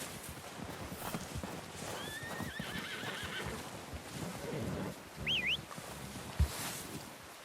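A horse in the video game Red Dead Redemption 2 whinnies twice, a rising neigh and then a shorter squeal, over a busy outdoor backdrop with faint hoof thuds.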